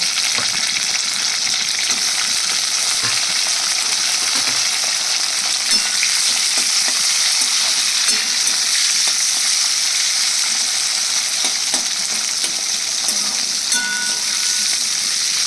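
Thick-cut onion chunks fry in a pan with a steady, dense sizzle throughout, occasional soft scrapes of stirring breaking through, and no talking.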